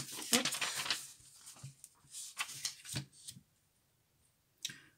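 Scissors snipping vellum tracing paper on a crafting table, a quick run of crisp cuts followed by a few sparser snips and a pause, close and fairly quiet.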